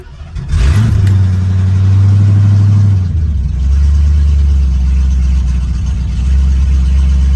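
A Ford Mustang Fox Body engine, left unstarted for months, catches after a short crank and then runs loudly and close by, with a steady idle that wavers slightly before settling, with no talk over it.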